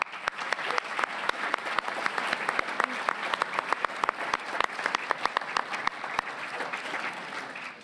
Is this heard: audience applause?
yes